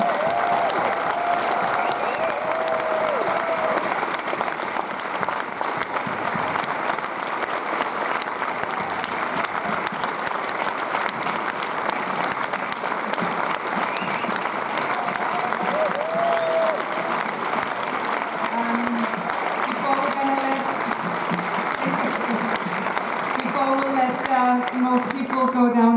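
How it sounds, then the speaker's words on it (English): Steady, loud applause fills a large cinema audience after a Berlinale screening of the Danish film Beginnings, clapping continuously without pause throughout, with a few voices faintly audible within the crowd noise. "So please give them a huge round of applause."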